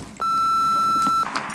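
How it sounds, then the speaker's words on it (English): An answering machine beep sounds as a single steady, loud electronic tone lasting about a second, then cuts off cleanly into quiet room noise. "leave a message after the beep."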